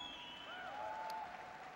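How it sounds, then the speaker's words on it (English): Crowd applause for the 101st Airborne Division Band at a troop gathering in Afghanistan, a steady, fairly faint patter of clapping with some tonal ringing over it. "Give them a big round of applause."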